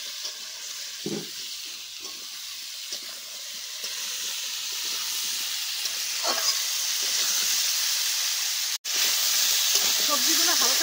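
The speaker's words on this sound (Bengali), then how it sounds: "সবজিগুলো হালকা ভেজে নিলাম।" Potato, drumstick, pointed gourd and greens stalks with salt and turmeric fry lightly in a pan, giving a steady moderate sizzle with occasional soft stirring knocks and one abrupt cut near the end.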